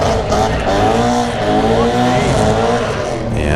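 Toyota FRS with a 1UZ V8 engine swap at an eighth-mile drag race, a loud, sustained engine roar with rising revs and some tire squeal, close by and continuous throughout.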